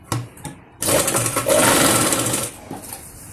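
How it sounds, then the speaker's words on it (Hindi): Sewing machine stitching Patiala salwar fabric, a loud close whirring run that starts after a few brief bursts, holds steady, then slows and stops. "इस तरीके से हम फिनिशिंग के साथ इसकी सिलाई करते चले जाएंगे"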